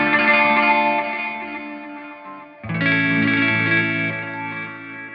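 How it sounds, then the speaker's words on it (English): Heavily processed, distorted drum taps swell and dip, a low-pass filter audibly sweeping across them, fading down before a loud new hit restarts the sweep. "So you can hear those big sweeps on the drum taps,"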